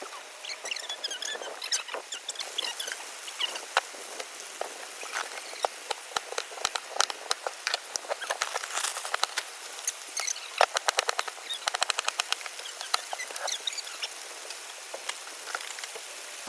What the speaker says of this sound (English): Raining really hard right now, and our awning from our casita is like my new favorite thing.